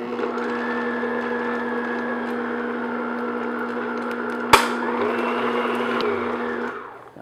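An electric mixer beats shortening or butter until smooth for chocolate chip sandwich cookie dough, an even, close motor whir that holds steady and is broken by a single sharp knock before winding down near the end.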